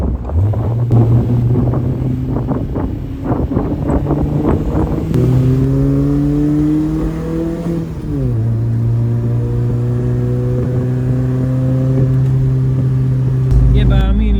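BMW E30 with a 1.8 engine and Scorpion exhaust back box, loud and close, revving through gears with a steady droning note that climbs, drops and settles into a low cruising hum.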